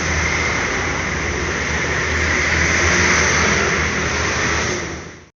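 A Mercedes 1626 bus engine, an SR1-bodied coach, runs close by with a loud, steady low rumble and broadband roar that holds level and then fades out at the end. No one talks.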